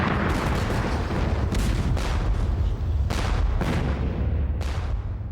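Artillery firing explosive shells in a Crimean War naval bombardment, a dense, loud barrage of booming blasts with several sharper reports cutting through, continuous and heavy throughout.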